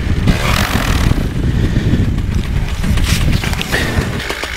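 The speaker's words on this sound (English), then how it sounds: "I think with this wind, I am not going very far today" Strong wind buffets outdoors on an open field before a paramotor flight, a rough continuous rumble with gusting swells.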